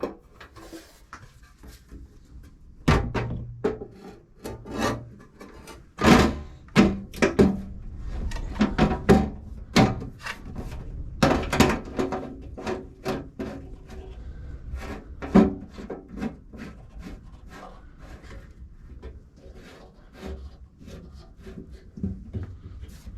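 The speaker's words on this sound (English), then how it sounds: "Reinstalling the belt guard's a little bit fiddly." A metal belt guard is refitted on a Warco WM240B lathe, with a series of irregular knocks, clunks and scraping rubs close by, busiest in the middle and thinning toward the end.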